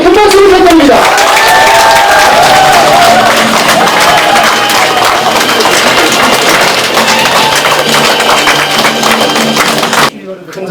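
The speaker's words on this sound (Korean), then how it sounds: "여러분 다시 한번 큰 박수 부탁드립니다" Loud crowd applause and cheering from a large gathering at a Korean election campaign office opening in Yecheon, sustained for about ten seconds with background voices mixed in, then cutting off abruptly.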